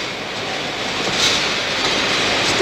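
The Akropolis express train pulling out of a station, a continuous rolling rail roar with faint wheel clatter, steadily building in loudness, no speech over it.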